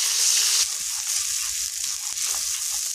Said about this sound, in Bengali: এই যে তেলটা গরম হয়ে গেছে, টমেটো, কাঁচা লঙ্কা, এলাচ আর আদা বাটা দিয়ে দিলাম, এটাকে কষাবো